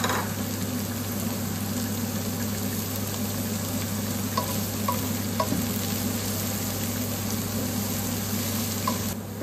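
Garlic and onion fry in oil, a loud continuous sizzle over a low steady hum, with a few faint clinks near the middle and no talk.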